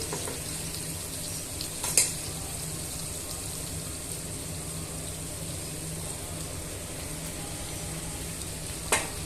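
Brinjal pieces sizzle steadily in a pan as a peanut spice mix is stirred in, with a constant hiss of frying and a couple of sharp utensil clinks against the pan.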